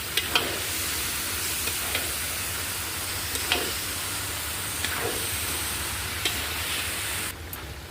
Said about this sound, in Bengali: পুঁই শাকটা দিয়ে দিয়েছি সবটা এবার ভালো করে নেড়ে নেব